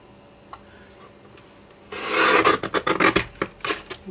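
A paper guillotine slices through card, a quiet start giving way to a run of close, rasping scrapes and short strokes for roughly two seconds.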